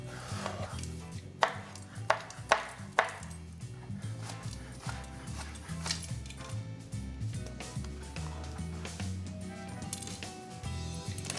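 Eggplant chopped with a knife on a board: a quick run of four sharp, close chops early on, then softer cutting sounds, all over steady background music.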